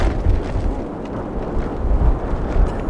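Wind at a rainy hunting camp, gusting against the microphone in a loud, continuous low rumble that swells and eases, with no voices.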